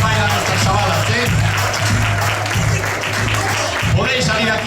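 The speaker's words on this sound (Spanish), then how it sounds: "Aplauso fuerte, República Dominicana." Audience applauding a dance group at an intercultural event, dense continuous clapping from a crowd, loud and sustained, with a steady hum and voices underneath.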